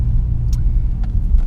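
A Porsche engine rumbles steadily up close as the car passes, a deep continuous low drone with no voices.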